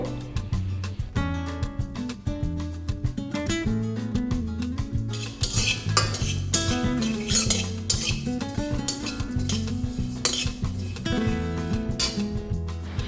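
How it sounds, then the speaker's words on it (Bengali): A utensil scrapes and clinks steadily against a dry metal pan as something is tossed and stirred, with a tune playing in the background. "চিড়েগুলোকে শুকনো কড়াইতে হালকা হাতে ভাজা করে নিয়েছি একটু লাল লাল করে।"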